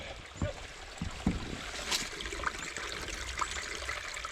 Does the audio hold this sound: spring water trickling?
yes